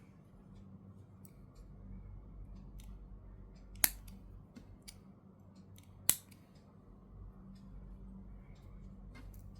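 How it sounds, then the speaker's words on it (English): Scissors snipping yarn at a crochet doll project, two sharp, distinct cuts a couple of seconds apart against a faint low room hum and light ticking, with no talk. "And then we can just cut the extra yarn."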